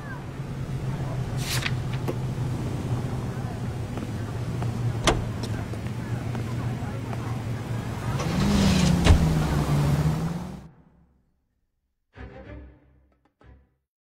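A car driven in L.A. Noire rumbles steadily with a low engine drone and road noise, swelling louder near the end before cutting out, followed by brief faint clatter.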